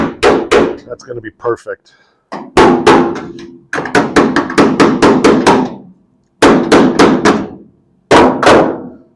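A hammer taps a metal patch into place in quick bursts of sharp, close strikes, with short pauses between the runs and a brief spoken remark.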